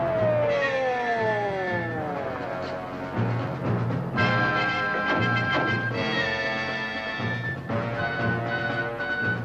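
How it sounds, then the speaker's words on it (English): An ambulance from an airstrip sounds its wailing siren, with rising and falling sweeps that repeat over a running motor and road noise, staying fairly prominent throughout. "It's the ambulance from the airstrip."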